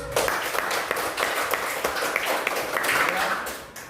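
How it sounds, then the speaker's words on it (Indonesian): Classroom applause for a student group's presentation, with dense, steady clapping continuing at a fairly even level throughout and a few sharper claps standing out. "tepuk tangan buat kelompok kaktus"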